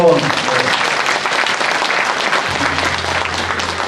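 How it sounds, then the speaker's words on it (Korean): Audience in a large concert hall giving sustained, loud applause at a reunification forum as pastors are introduced, with a low hum entering partway through. "소중한 박수 부탁합니다 여러분"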